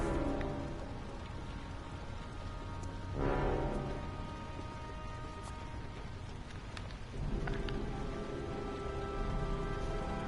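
Steady rain hisses through the video game Heavy Rain, a dense wash of falling water with scattered drops and a low rumble beneath, swelling briefly twice, with no voices.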